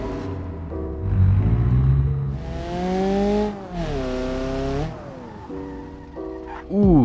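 Upgraded car engine on a test drive in BeamNG.drive career mode, revving up through rising, falling pitch sweeps across several gear changes, loud and close, with a final sharp rev; someone speaks briefly over it.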